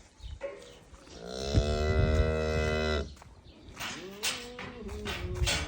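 A cow lets out a long, loud moo nearby, followed by a shorter, rising call from another animal amid farmyard rustling.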